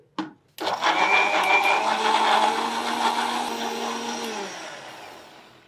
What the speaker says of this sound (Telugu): మిక్సీ పట్టేద్దామండి.